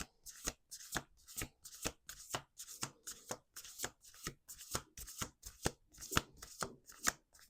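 Oracle cards being shuffled by hand, close and quiet, in a steady rhythm of about a dozen evenly spaced papery riffles and slaps that repeat for several seconds without speech.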